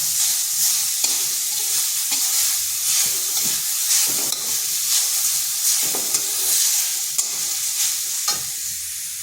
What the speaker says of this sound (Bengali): হালকা একটু নেড়ে নিচ্ছি, যাতে তার কাঁচা গন্ধটা চলে যায়।